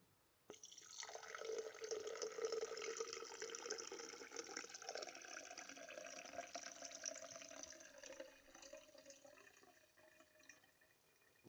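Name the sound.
water pouring into HHO generator cells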